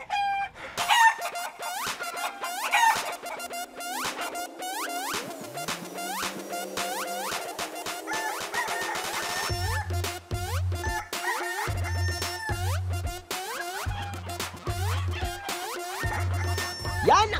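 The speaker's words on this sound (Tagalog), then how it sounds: "Yan ang tilaok ng mga manok!" Roosters crowing repeatedly, with a mix of nearby loud calls and farther fainter crows overlapping, plus some clucking from fowl in the background, no speech.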